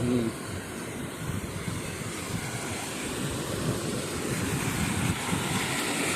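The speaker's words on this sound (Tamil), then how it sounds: "தண்ணி வந்து கூடுதலாகவே பாஞ்சொன்று இருக்குது" Water pouring over the Nagapaduvan tank spillway at Kariyalai after a sudden rise, a steady broadband rush that stays even and fairly loud from start to finish, with no voices.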